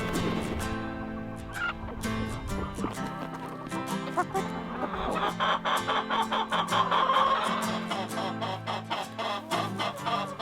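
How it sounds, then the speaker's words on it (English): Chickens clucking and squawking close by in cold, snowy weather, a busy overlapping chatter of hens that grows louder and more excited toward the end. "Look at this, our chickens are out."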